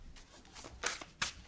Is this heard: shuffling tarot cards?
yes